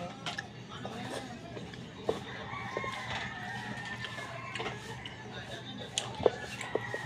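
Chickens cluck around a yard with a rooster crowing a few times, the fowl sounds fairly close over steady outdoor background noise.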